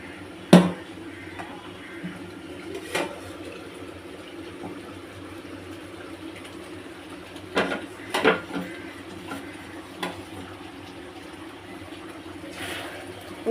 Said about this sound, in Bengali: আমি ঢাকনাটা খুলে একবার দেখলাম, নাড়াচাড়া করে নিচ্ছে একটু।